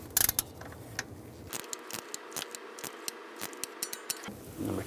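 A ratcheting torque wrench clicks in a quick, even series of sharp ticks as it tightens a knock sensor bolt to 106 inch-pounds on a 3.6L V6 Ram 1500 engine, close and isolated.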